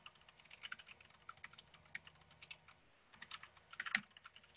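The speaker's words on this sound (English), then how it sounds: "I will like type this into the Etherpad and in chat" Steady typing on a computer keyboard during a Git command-line session, a continuous run of quick light key clicks with a brief pause, close and quiet with no talking.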